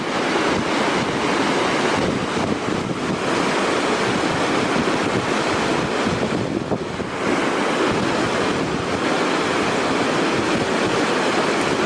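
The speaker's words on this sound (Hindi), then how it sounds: "देखिए कितना तेज पानी बह के निकल रहा है" Fast glacier meltwater on the Adi Kailash–Om Parvat route rushes past in a loud, unbroken roar. Heavy wind buffeting on the microphone is mixed in, and no voices are heard.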